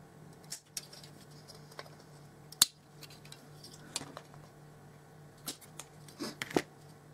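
Small snips and clicks come from cutting plastic Gundam model kit parts off the runner, a few sharp isolated cuts spread over quiet handling noise.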